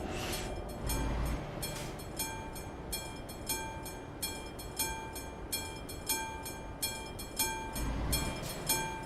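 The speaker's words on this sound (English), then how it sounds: "No, it's one of these European freight train type things." Heavy European freight train in the video game Space Night Trucking rumbling past close by, with rhythmic clanking of wagons over the rails and steady mechanical noise.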